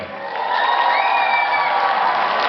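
A festival crowd at a carol-singing concert in Truskavets bursts into loud, close cheering and applause that swells and holds briefly.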